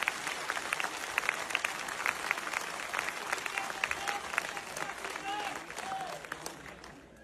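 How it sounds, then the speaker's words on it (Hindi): Loud, dense applause from a large crowd welcoming the Chief Minister at a public event in Delhi, steady clapping sustained throughout with scattered crowd noise and voices underneath. "एक बार जोरदार तालियों के साथ माननीय मुख्यमंत्री महोदया का अभिनंदन होना चाहिए।"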